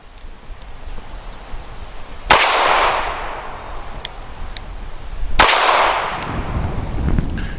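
Two sharp, loud reports from a Smith & Wesson Performance Center Shield EZ .380 pistol, about three seconds apart, each followed by a ringing, echoing tail at an outdoor range.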